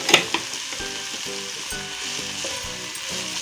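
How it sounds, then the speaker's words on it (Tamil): Beans, carrot, capsicum and green peas sauté in ghee for masala rice: a couple of sharp clinks up front, then a loud, continuous sizzle with a rhythmic stirring texture. "பீன்ஸ் சேர்த்துக்கிறேன், கேரட், கேப்சிகம், க்ரீன் பீஸ், இது எல்லாத்தையும் நம்ம இப்போ வதக்கலாம்."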